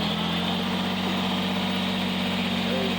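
A Kubota BX23S compact tractor engine runs loud and steady at raised RPM, a constant close droning rumble with no clear rise in pitch.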